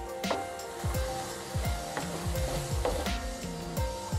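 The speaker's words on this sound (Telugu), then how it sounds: "ఇప్పుడు దీంట్లోకి మనం గరం మసాలా యాడ్ చేసి ఒక 10 సెకండ్స్ కలుపుదాం." A spoon stirs garam masala into soft-cooked tomatoes in a pan, scraping and knocking against the metal at an uneven pace, with a light sizzle underneath, close and moderately loud.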